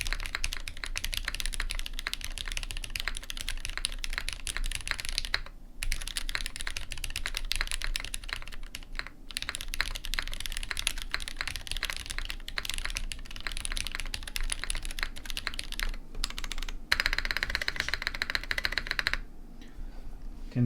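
Rapid typing on a ZoomTKL Dyna mechanical keyboard with split O-ring mount, a dense stream of crisp keystroke clacks with a few brief pauses and heavier spacebar-like thocks, close and alone.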